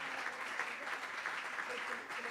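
Congregational applause during an evangelical church service, a steady dense patter of many hands clapping, moderately distant and continuous with no clear breaks.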